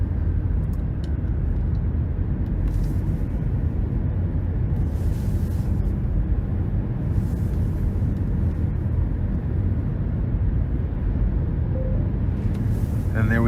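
A 2023 Nissan Rogue's turbocharged three-cylinder engine accelerating, heard from inside the cabin as a steady low drone with road noise, while a person talks over it.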